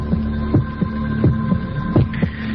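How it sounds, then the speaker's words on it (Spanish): Heartbeat sound effect, a steady, low, thumping double pulse repeating about every three-quarters of a second over a constant droning hum, with no talking. "Latidos de corazón, según nos informan estos reporteros"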